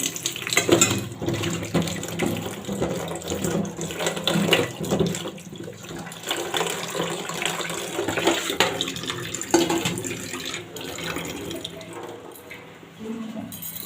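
Tap water runs steadily into a sink while green chillies are rinsed under it, a continuous close splashing with small fluctuations and no talk.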